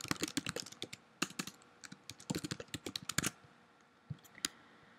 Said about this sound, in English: So I'm gonna type my email